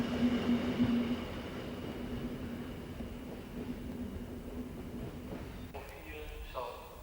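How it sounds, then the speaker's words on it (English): Dutch DE1 diesel-electric rail car from 1953 passing by, a steady low engine rumble with a droning tone, heard faintly at a distance and fading slightly toward the end. "Amongst the older types of Dutch passenger trains is the DE1 type of diesel-electric rail cars, built in 1953."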